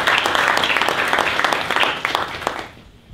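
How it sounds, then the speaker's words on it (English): A room full of attendees at an African advisory meeting bursts into a dense round of applause that holds steady, then tapers off and fades out near the end. "So if we can give him a round of applause"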